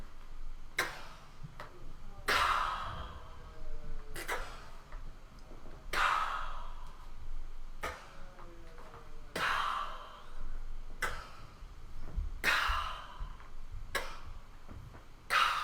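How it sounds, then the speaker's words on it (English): Breath pushed out on a whispered "ka" during a Linklater-style voice warmup, in a steady series of about nine sharp, airy bursts spaced under two seconds apart, close and fairly quiet with soft inhales between. "breathe in and out on a whispered ka"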